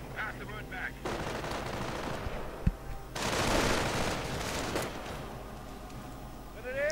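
Light machine gun fire from a Grenadier LMG team in a real-time strategy game, rattling in steady bursts amid other battlefield gunfire, with a sharp impact midway and a louder, denser volley afterward.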